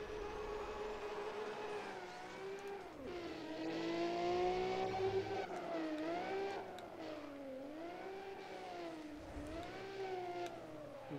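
A car drifting in the racing game Need For Speed ProStreet, its engine whining and revving in sweeping pitch swoops as it slides through corners, loud and continuous with no talk.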